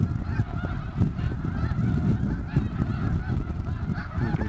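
A large flock of snow geese honks steadily at close range, a dense, overlapping chorus of calls that continues without a break and with no talking.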